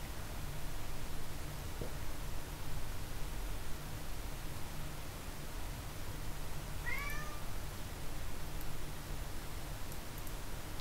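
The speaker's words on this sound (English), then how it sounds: "my cat's crying out in the corner" A pet cat cries out in a corner with a single short, faint meow partway through, heard over a steady hiss of background noise.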